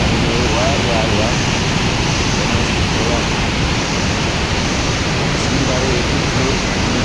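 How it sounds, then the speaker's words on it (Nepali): In Nepal, a waterfall pours over old stairs built around 1974, a loud, constant close-up roar of rushing water. "त्यसको माथि झर्ना झर्दैछ।"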